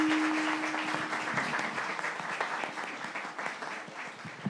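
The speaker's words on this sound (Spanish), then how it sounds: "Denle un aplauso bien grande." A Sunday church congregation gives steady, moderately loud applause to welcome first-time visitors. A brief tone sounds at the start, and the clapping tapers slightly toward the end.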